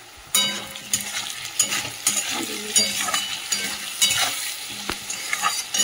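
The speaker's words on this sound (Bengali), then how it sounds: "এই পেঁয়াজ আর আলুটা একটু ভেজে নিই" Potatoes and onions seasoned with salt and turmeric fry in a pan, a steady close sizzle broken by repeated scraping strokes of stirring, with no voices.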